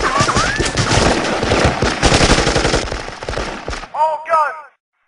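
Rapid bursts of film gunfire rattle loudly for almost four seconds, a dense run of close machine-gun shots, then a few sharp ringing ricochet-like whines before the sound cuts to silence.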